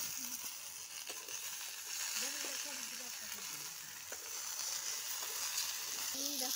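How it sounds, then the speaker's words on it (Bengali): Potatoes and tomatoes sizzle steadily in a wok over a wood fire at an outdoor village picnic, a constant hiss with faint voices murmuring in the background. "এরপরে আমি কড়াইয়ে আলু টমেটো সব ছেড়ে দিলাম।"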